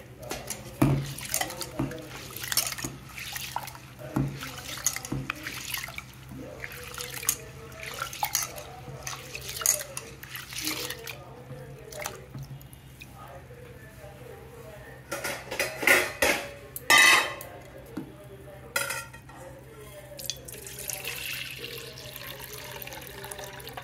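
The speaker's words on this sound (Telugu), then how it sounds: "ఈ మినపగుళ్ళు వాటర్తో శుభ్రంగా కడిగేసుకొని మళ్ళీ నీళ్లు పోసుకొని నానబెట్టుకోవాలండి" Urad dal lentils being washed in water at home for garelu, with splashing and dull knocks of a metal pot or vessel in irregular bursts, close by and moderately loud, with no talk.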